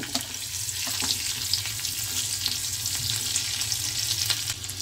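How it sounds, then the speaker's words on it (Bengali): Garlic and green chilli sizzle in hot oil while being stirred, a steady close crackling fry with occasional scrapes of the spoon and no talking. "এবারে আমি রসুনটা কাঁচা লঙ্কাটা দিয়ে দিলাম, ভালো করে নেড়ে দিই।"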